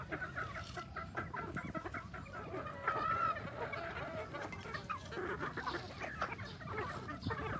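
Young pullet chickens on a large breeding farm in the Philippines cluck and chatter continuously, a dense flock close by with overlapping calls and occasional louder squawks.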